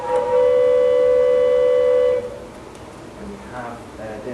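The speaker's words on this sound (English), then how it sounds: "a train whistle," A Wurlitzer theatre organ's train whistle effect sounds one loud, sustained, steady-pitched toot for about two seconds, then cuts off, followed by quiet room sound and faint talk.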